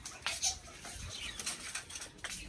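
A pigeon and its mate inside a coop, giving soft rustles, faint wing flutters and scratchy shuffling at low volume, with nearby movement but no clear cooing.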